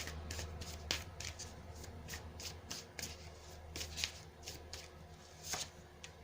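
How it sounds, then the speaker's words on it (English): Tarot cards are shuffled and drawn by hand, with a steady series of crisp, close riffling and flicking bursts repeating over a low background hum. "let's go ahead and grab a couple more cards here."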